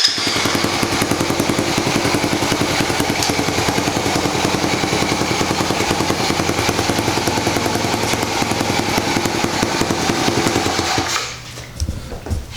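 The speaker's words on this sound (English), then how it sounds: "Perfectly idles. The quad runs amazing." A small ATV engine idles steadily and loudly up close with an even, rapid putter, then cuts off abruptly near the end.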